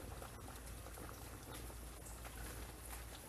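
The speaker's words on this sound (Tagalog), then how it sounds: "Simmer lang natin siya hanggang sa maluto yung ating gulay." A pot of pochero bulalo with cabbage and pechay simmers quietly in a steady, faint bubbling hiss, with no voices over it.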